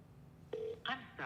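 A phone dials Speaker Johnson's office, a short run of clear touch-tone beeps heard close and fairly quiet, with speech around them.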